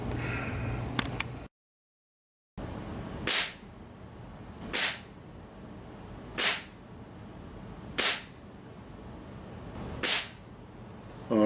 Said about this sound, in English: now we're going to try 5 more shots and see how we do.